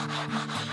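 A sanding block rubs back and forth across small wood pieces to flatten them, making a short, close, gritty scraping with a few quick strokes.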